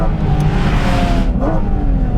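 A Porsche 718 Cayman GT4 RS engine screams at high revs around 9,000 RPM, loud, close and continuous, with a brief pitch rise partway through.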